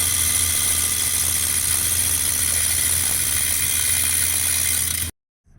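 An engine runs steadily with a spinning flywheel, giving a loud, continuous drone with a high whine that cuts off abruptly near the end.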